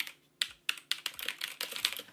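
Mechanical keyboard with RGB backlighting, keys clicking in a quick irregular run of sharp, close taps that get denser toward the end, with no talking.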